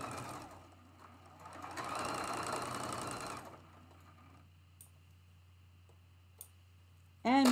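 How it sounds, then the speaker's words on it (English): Sewing machine stitching quilt pieces for a traditional fan block runs in a short, close whirring burst of about two seconds, then stops, followed by quiet room tone and a few faint clicks. "line them up, and sew those."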